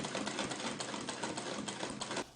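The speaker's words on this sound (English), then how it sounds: "I'm just going to sit and sew everything at once." A sewing machine stitches leather fabric in a fast, steady mechanical rattle of needle strokes, close and loud, stopping abruptly at the end.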